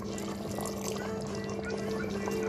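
Water poured into a pot of simmering Rajasthani spicy lamb curry, a steady close liquid splash and sizzle running continuously at low level with a faint background hum.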